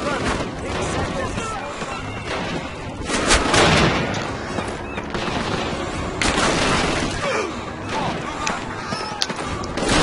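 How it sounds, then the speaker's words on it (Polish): Gunfire in the video game Call of Duty: United Offensive, with shots and impacts striking close by in an irregular barrage of sharp cracks and thuds amid a noisy battle din. "Nie trawię tego efektu, jak milimetry ode mnie padają strzały."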